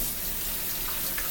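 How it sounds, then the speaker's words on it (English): Tap water runs steadily into a sink as hands are washed, an even close hiss with faint splashes and no talking. "Quickly wash my hands."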